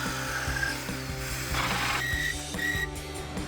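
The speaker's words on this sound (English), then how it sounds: "I'm gonna go ahead and start with the holes. I've got my drill ready" A power drill bores holes through the plastic grille fascia of a 2020-2023 Chevrolet Silverado 2500, a steady grinding whir with brief higher-pitched whines as the bit bites, running continuously without talk.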